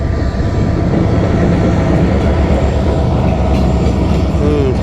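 A non-AC passenger train pulling out of Cox's Bazar station bound for Dhaka's Kamalapur, heard as a loud, close, continuous rumble with faint rattling throughout.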